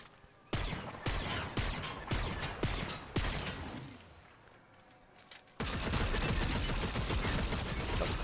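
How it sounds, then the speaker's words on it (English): Gunfire in Fortnite Chapter 6 Season 3 aimed at the player: a run of sharp, loud shots in a steady rhythm, a brief lull, then a dense, continuous burst of firing near the listener. "someone is shooting me for the TIE fighter."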